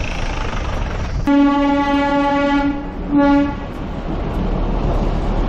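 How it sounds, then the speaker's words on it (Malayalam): Darjeeling Himalayan Railway toy train at night, its steam or diesel engine sounding a long, loud harmonic horn blast followed by a second shorter blast, over a steady rumbling background. "ടോയ് ട്രെയിൻ നീരാവി എഞ്ചിനുകളും ഡീസൽ എഞ്ചിനുകളും ഉപയോഗിച്ച് ഓടും"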